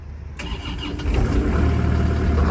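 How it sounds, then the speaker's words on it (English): A brand new CAT 305E mini excavator engine cranks and catches after a short silence, then settles into a steady, rumbling idle close by with no talk over it. "Fire it up."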